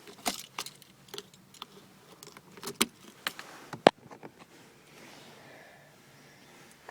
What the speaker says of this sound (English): just put the key in the ignition